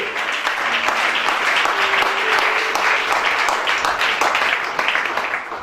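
Congregation applauding during a church sermon, dense sustained clapping from many hands throughout, loud and steady with a brief sustained tone in the background.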